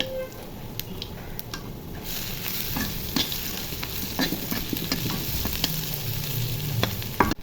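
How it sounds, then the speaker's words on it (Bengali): Onions fry in hot oil with bay leaf and cumin seeds while a spatula stirs them, a continuous close sizzle broken by frequent scraping and tapping strokes against the pan, with no talk. "নেড়ে সেড়ে ভেজে একটু ঘ্রাণ বের হলে পেঁয়াজগুলো মিক্স করে দিব।"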